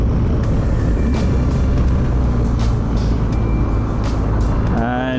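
A BMW R 1250 GS motorcycle engine rumbling steadily through a turn, heavy low drone with wind buffeting, close and loud, and a rising engine whine near the end.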